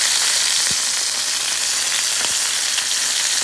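Birria tacos fry in a pan with a steady, loud sizzle that fills the whole clip, while a few soft scraping clicks from a spatula flipping them break through. No one speaks.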